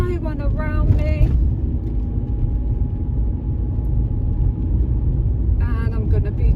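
A car on a driving test route near Tolworth is driven in second gear, giving a steady low engine rumble throughout, with someone talking briefly at the start and again at the end.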